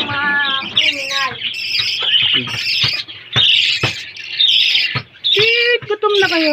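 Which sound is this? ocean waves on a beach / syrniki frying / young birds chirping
young birds chirping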